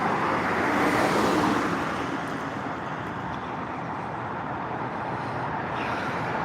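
A small car drives by on the road outside the Whitfield County courthouse, a steady broadband tire-and-engine roar that swells early and then settles into continuous traffic noise, with no talking.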